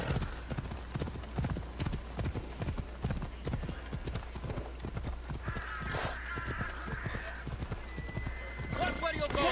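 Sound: horse hooves trotting in video game

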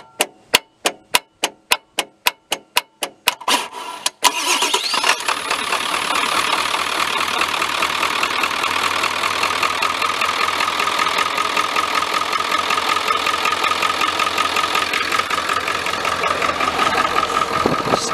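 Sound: 1995 Ford F-350 7.3L diesel engine cranking with starter

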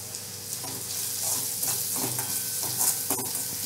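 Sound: spices and ginger-garlic being mixed and fried in a pan

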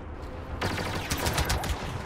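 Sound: laser blaster shots in Star Wars Battlefront video game

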